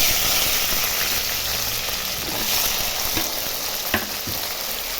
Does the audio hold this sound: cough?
no